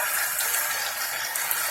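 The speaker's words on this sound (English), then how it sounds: "That's why it's called a waterfall, because the water falls." Water pours steadily from a waterfall faucet into a vessel sink, a continuous close hiss and splash with no pauses and no talking.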